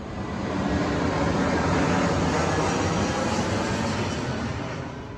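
A jet airplane roars past overhead, its broad engine noise swelling and then slowly fading.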